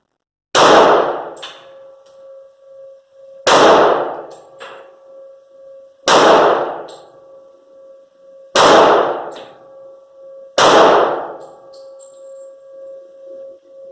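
A Caspian 1911 pistol fires five loud, sharp shots at slow, even intervals of roughly two to three seconds, each with a ringing decay and a faint hum between shots.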